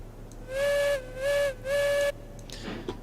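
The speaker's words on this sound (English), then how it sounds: "Especially, like, doing the whistling there" A steam locomotive whistle in the train game Railroads Online sounds three clear, sustained blasts, the last one longest, followed by a brief hiss of steam.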